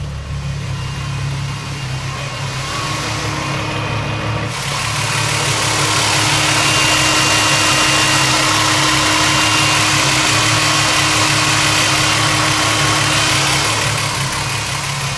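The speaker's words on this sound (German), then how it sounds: "Ich höre den Lüfter" A VR6 car idles with its radiator fan cutting in partway through, a loud steady engine rumble joined by a broad rushing whoosh of the fan that then holds constant.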